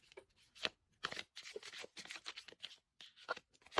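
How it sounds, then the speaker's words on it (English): Tarot cards being shuffled by hand for a love reading, a close, quiet series of papery riffles and slides in irregular bursts, each rustle separated by brief pauses, with no talking. "Let's shuffle for the second pile."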